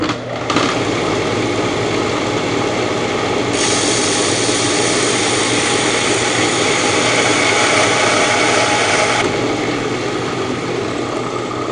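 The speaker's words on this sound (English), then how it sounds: "we're going to go ahead and buff this down with the belt sander" A belt sander buffs down an aluminium AR-15 handguard, a loud continuous whine and rushing drone that holds steady for the whole stretch, growing harsher and brighter midway as the part presses into the belt, with no talking.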